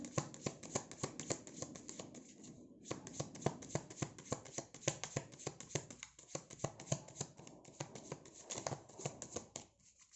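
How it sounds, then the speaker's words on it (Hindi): Tarot cards are shuffled and drawn by hand in a quiet room, a close series of crisp riffling flicks and slaps with brief pauses between bursts. "मैं थोड़ा सा एक दो कार्ड और निकालूंगी।"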